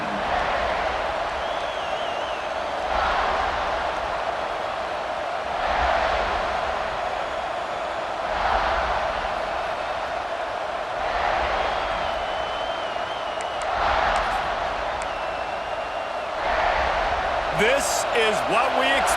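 Stadium crowd cheering in a football video game: a dense, loud crowd roar that swells in regular waves over the course of the clip, with a commentator talking over it.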